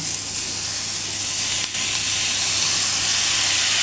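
Capsicum and onions sauté in a pan, giving a loud, steady, close hiss of sizzling with no break.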